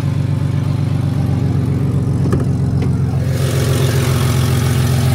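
A Ford wagon engine with an exhaust leak idles steadily with a low, rough rumble and a puttering, uneven exhaust note, close by and fairly loud, without any talking.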